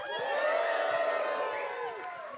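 Large conference crowd at a closing ceremony cheering and whooping together, a loud sustained roar of many voices that swells early and holds, tapering slightly toward the end.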